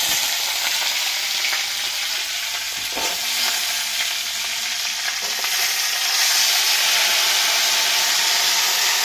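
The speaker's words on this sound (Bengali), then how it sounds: "এইবারে আমি সজনাটা সম্বরা দিয়ে দিচ্ছি" Drumstick pieces (sajna) frying in a hot oil tempering for a soybean, potato and tomato curry, a steady loud broadband sizzle that holds throughout with a few brief stirring clatters, no voices.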